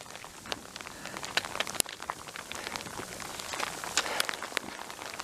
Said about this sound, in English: Oh boy, it's really starting to come down.